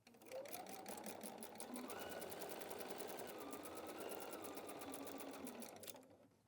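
A sewing machine runs steadily for about six seconds, stitching a quilted wall-hanging seam in one continuous close, loud run with a fast, even rhythm and no talk over it.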